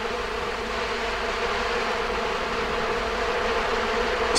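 Dense, continuous droning hum of a honeybee colony signal at 400-550 Hz, loud and steady throughout with no voices.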